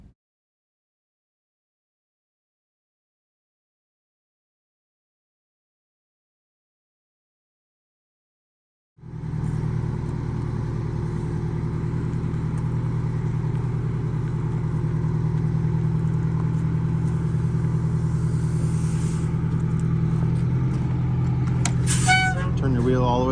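A school bus idles and pulls out, its engine a steady low rumble that starts abruptly after several seconds of silence and holds loud and near, with a brief rattle near the end.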